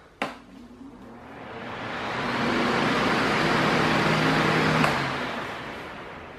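A Mondial Super Power VSP-40 40 cm, 140 W electric fan clicks on and its steady whooshing airflow swells over a couple of seconds to a loud, even roar, with a second faint click near the end and no talking.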